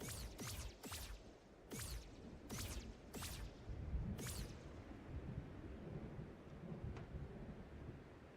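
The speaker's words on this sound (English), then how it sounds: "There is a storm going on outside" Thunder from a storm outside rumbles low and continuous beneath steady rain, with several sharp cracking bursts clustered early before the storm settles into a muffled distant roll.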